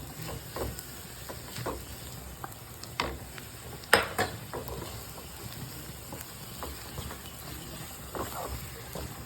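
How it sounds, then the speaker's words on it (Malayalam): Fried prawns are added to masala in a pan and stirred, giving a soft sizzle broken by scattered scrapes and clinks of a utensil against the pan, quiet and close. "നമുക്ക് ഇതിൻ്റെ അകത്തോട്ട് ഈ ഫ്രൈ ചെയ്ത് വെച്ചിരിക്കുന്ന ചെമ്മീൻ ഇട്ട് കൊടുക്കാം"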